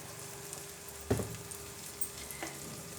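Tomatoes fry in a pan with a continuous soft sizzle, close by. A sharp utensil clink sounds near the start and a lighter tap follows later. No speech is heard.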